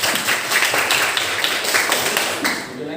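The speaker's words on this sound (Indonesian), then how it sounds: "Tepuk tangannya mana?" Schoolchildren in a classroom clapping for a classmate, a brief burst of fairly steady handclaps at moderate volume with some overlapping voices.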